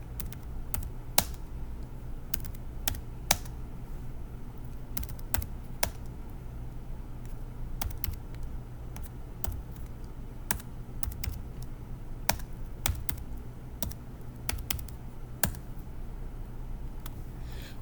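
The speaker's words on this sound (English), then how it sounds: "go ahead and type in the next column of data" Steady typing on a computer keyboard while entering a column of data into an Excel spreadsheet, a quiet continuous patter of key presses with occasional sharper clicks, no talking.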